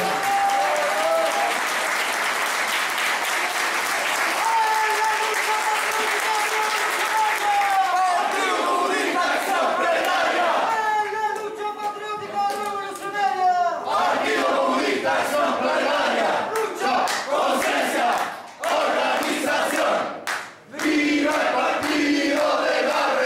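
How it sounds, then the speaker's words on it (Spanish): Loud applause and cheering fill a communist party political rally, with clapping under rhythmic chanting and shouted slogans from the crowd that swell and dip with several brief pauses. "Un fuerte aplauso, por favor."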